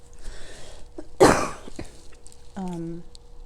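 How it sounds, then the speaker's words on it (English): A single sharp cough bursts out close to the microphone, followed by a brief clearing of the throat and a short hum. "sorry, I got a cough again."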